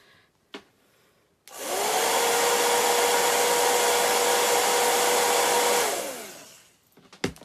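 A hair dryer blows steadily for about four seconds to dry freshly washed chalk stencils. The loud, even whoosh and whine winds down at the end, with small clicks and handling noises before and after.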